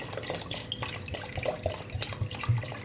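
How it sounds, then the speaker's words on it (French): Water being poured into a pot over meat for a couscous, a steady close splashing and trickling stream that runs through the whole short stretch. "Je mets de l'eau. Il faut que ça dépasse la viande."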